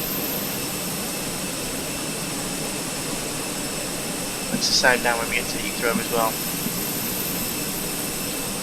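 Fenix A320 with IAE jet engines in Microsoft Flight Simulator 2020, British Airways livery at Glasgow in cold, dreadful weather: a steady, even engine whine and rumble runs throughout beneath someone talking in the middle.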